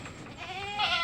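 Goats bleat on a small mini goat farm, several wavering, nasal calls overlapping at close range, rising louder toward the end of the short stretch.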